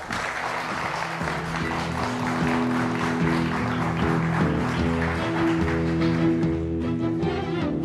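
A television studio audience applauds a guest's entrance on a Turkish comedy show, with steady, fairly loud clapping blended with background music playing throughout.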